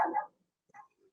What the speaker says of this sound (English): now you get to meet my other dog there, barking in the background.